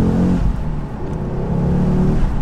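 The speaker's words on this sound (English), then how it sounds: "God, it's got a lot of intake noise," Ford Focus RS accelerating, its engine intake roaring loud and close in a steady drone with a rising, revving note throughout.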